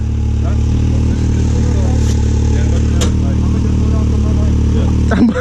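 A 200cc Avantis pit bike engine drones loudly and steadily up close while trail riding, holding a constant pitch with little revving, under wind noise and occasional clicks.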